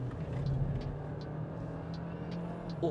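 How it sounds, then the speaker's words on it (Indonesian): A Hyundai Tucson Hybrid's engine hums steadily as the car accelerates, a low sustained drone with faint road rumble and a few light ticks over it. "Gila, mesinnya narik banget."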